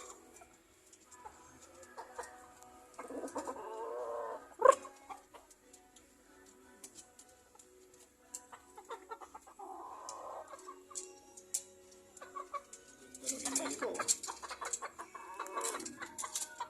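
A young gamecock (stag) clucks in short, scattered bursts, fairly faint and close, with quiet gaps and light rustling between calls.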